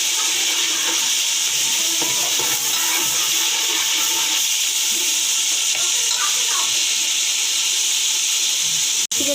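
Ginger-garlic paste and vegetables such as capsicum and carrot sizzle steadily in hot oil for a vegetable rice dish, a dense continuous hiss with faint stirring clatter throughout.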